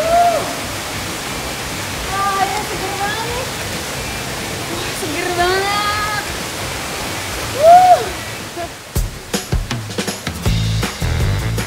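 A waterfall pours into a pool below in a constant, full rushing roar, with birds chirping faintly, someone speaking briefly over the water, and closer splashing and knocks toward the end.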